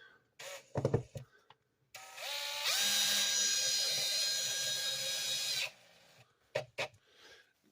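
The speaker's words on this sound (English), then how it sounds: "So I'm going to take my drill, and pull this one back down to where it needs to be." A power drill whirs steadily for about three seconds while working styrene, its pitch rising as it spins up, framed by short clunks and handling noises before and after.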